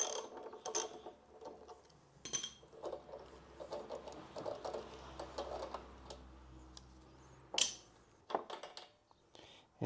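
Ratchet with a spark plug socket loosening the spark plug on a Ryobi lawn mower with a 190cc Subaru engine, heard as quiet, close clicking and rattling in irregular bursts with occasional louder knocks from handling the tool.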